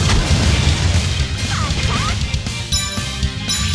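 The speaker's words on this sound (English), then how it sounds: "this little fire bubble move" Magilou's fire bubble attack in the video game Tales of Berseria: a loud crunchy burst of impacts and crackling pops with bright tonal chimes layered over steady battle noise and music.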